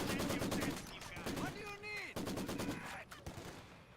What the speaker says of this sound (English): Conscripts firing away, can spit damage on the flamethrower.